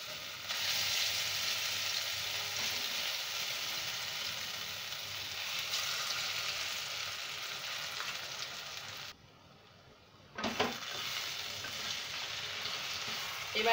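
Ground lentil paste, added after asafoetida and a little sugar, frying in hot oil for a vegetarian matar dal ball dish: a steady, loud broadband sizzle that cuts out briefly near the end and then resumes.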